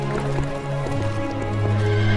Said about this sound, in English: We'll stable your horse for you if it pleases you, sir.